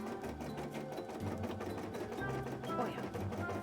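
Sewing machine stitching a cosplay costume piece, a fast steady mechanical whir with rapid needle chatter, close and continuous, pitch shifting slightly as the speed changes.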